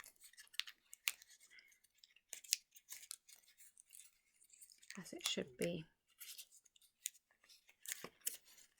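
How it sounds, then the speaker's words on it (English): Origami paper for a modular traditional lotus being gently folded and creased, with crisp crinkling and rustling bursts scattered throughout and a louder handling flurry midway, under a woman's quiet speech. "I'm being gentle and careful with the paper."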